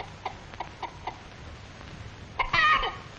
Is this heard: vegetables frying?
no